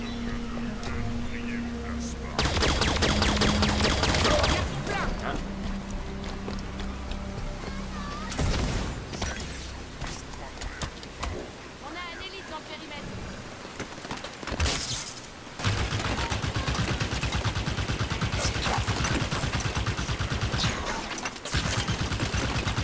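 Heavy gunfire from the Halo 5 Guardians video game, dense bursts of automatic fire and booming blasts that come and go over roughly twenty seconds, loud and close, with a few quieter lulls between volleys.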